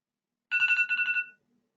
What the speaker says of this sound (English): I have random alarms going off on my phone